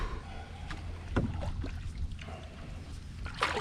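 Canoe paddled on water, with soft splashes and drips from paddle strokes at irregular intervals over a steady outdoor background hiss.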